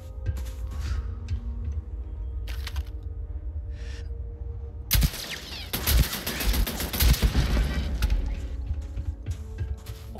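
Automatic turret gunfire in the video game Starfield: after quiet ticking game ambience, a loud sustained burst of rapid shots erupts midway and rattles on for several seconds, then fades back to low background clicks.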